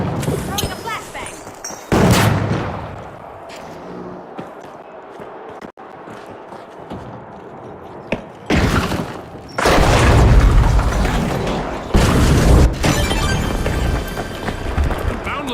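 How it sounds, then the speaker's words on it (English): Flashbang and gunfire explode in the video game The Finals, with sharp loud booms and bursts of shooting between quieter stretches of footsteps and ambient game noise, and voices speaking over it. "Throwing a flashbang!"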